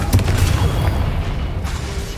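A Confringo blasting spell explosion in Hogwarts Legacy: a loud, deep boom with sharp cracking bursts up front, rumbling on and slowly fading, with no talking.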